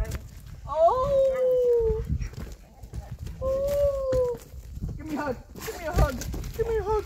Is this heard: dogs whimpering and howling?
yes